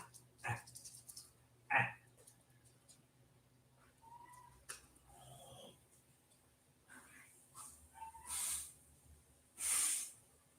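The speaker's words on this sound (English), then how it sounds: "he hears the dog barking" A dog on a farm gives a few short, sharp barks from some distance, spaced irregularly among faint hiss and bird chirps in a quiet outdoor setting.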